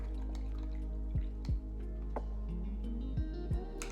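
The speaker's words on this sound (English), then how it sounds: "Now I do have to change out my painting water." Painting water being changed out at a miniature-painting desk: quiet, close drips and small splashes of water falling into a cup, several distinct drops spaced irregularly, with no talking.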